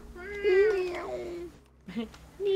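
A cat meows twice, a long drawn-out wavering cry followed by a shorter one after a pause, fairly close and loud.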